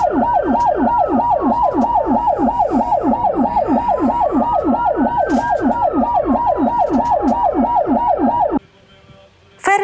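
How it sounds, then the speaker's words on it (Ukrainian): Ambulance sirens from a funeral procession of ambulances through a city, a loud, near, rapid rising-and-falling wail repeating steadily for about eight seconds before cutting off abruptly. "На честь героя містом його в останню путь супроводжував кортеж швидких."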